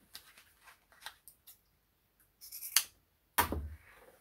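Scissors snipping through fabric for a homemade running backpack, a handful of quiet close cuts with a couple of sharper louder snips near the end, no talk.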